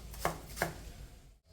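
Two crisp knife chops on a cutting board land about a third of a second apart, close and clean, while carrots and vegetables are cut for chicken noodles, with no talking.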